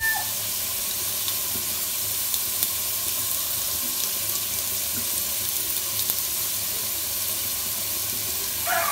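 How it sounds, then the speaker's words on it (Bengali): Potatoes fry in hot oil in a pan, giving a steady, fairly loud sizzle and bubbling hiss that runs unbroken throughout with no talking. "এই যে আমার আলুগুলো এখন ভাজা ভাজা হয়ে গেছে"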